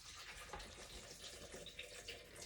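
About 8 ounces of water pouring into a blender jar for a detox smoothie, a steady, soft splashing stream with no talk over it.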